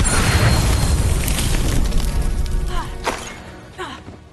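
A Confringo blasting spell explodes in Hogwarts Legacy: a loud booming blast with a rumbling tail that fades, followed by a few sharper pops and thuds near the end.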